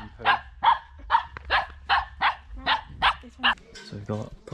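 A dog barks repeatedly at a steady pace, about nine sharp, close barks in a row, with soft background noise and a muffled voice near the end.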